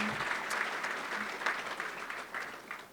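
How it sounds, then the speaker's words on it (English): Steady applause from a crowd at a Wake Forest Athletics scholarship celebration dinner, many hands clapping continuously at moderate volume for the whole stretch. "Round of applause, y'all, if you don't mind."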